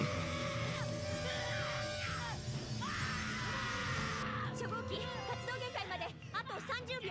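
Shinji from Neon Genesis Evangelion lets out long, anguished screams over a dense, dramatic background score, the cries rising and breaking repeatedly.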